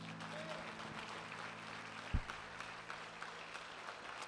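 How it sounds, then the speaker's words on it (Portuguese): Worshippers in a church give a round of applause to the Lord, a sustained patter of many hands heard a little distant over a low hum, with one sharp thump partway through. "Você pode dar um aplauso ao Senhor?"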